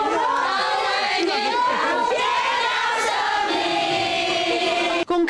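A crowd of Wuhan doctors sings and applauds together in celebration as the last COVID-19 patient is discharged, a sustained mass of voices and clapping with a brief dropout near the end.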